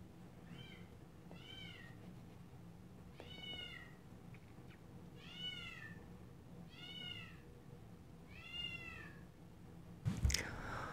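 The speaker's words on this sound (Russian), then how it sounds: "Ужас, как мяукает." A house cat meows insistently indoors, about six drawn-out, rising-and-falling cries spaced roughly a second apart over a low room hum, with a sharp knock or clatter at the end.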